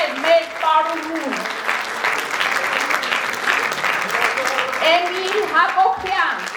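An audience at a school commemorative event applauds a dancer, with dense, sustained clapping throughout while a voice speaks over it.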